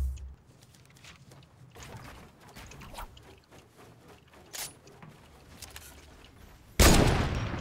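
Bursts of gunfire in a Fortnite-style shooter video game, scattered faint shots and rattles through the clip, then a loud close burst near the end.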